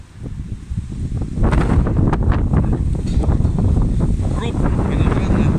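Wind rises outdoors ahead of a heavy rainstorm, buffeting the microphone with a loud, rough roar that jumps up after a quieter start and keeps gusting steadily.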